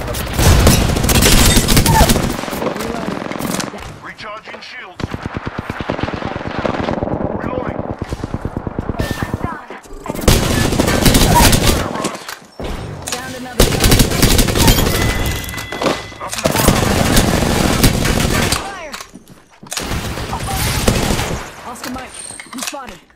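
Bursts of automatic gunfire in Apex Legends, several sustained volleys loud and close, separated by brief pauses, with game effects and muffled booms between them.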